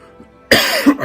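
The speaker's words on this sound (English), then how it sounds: "all week I had this horrible cough." A single harsh, loud cough from a person, heard up close in a quiet room, with a short rasping tail.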